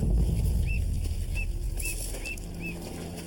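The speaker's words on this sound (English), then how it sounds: "You can hear the gray jays." Gray jays in Alaskan woods give five short, faint whistled calls spaced about half a second apart, over a low wind-like rumble.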